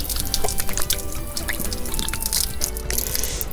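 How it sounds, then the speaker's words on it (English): Water from an outdoor park faucet splashes steadily over hands being washed, with drips and splatters and no talking. "Let's wash our hands."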